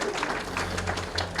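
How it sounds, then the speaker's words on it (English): Brief applause from the crowd at a boar parade during a swine sire open house, scattered clapping over a low hum of background noise and crowd murmur. "Let's give him a nice round of applause"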